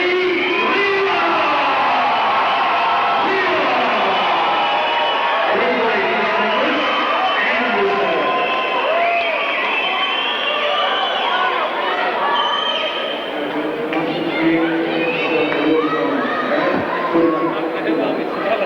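A boxing match crowd fills the venue with continuous loud chatter, cheers and shouts, a dense wash of many voices throughout.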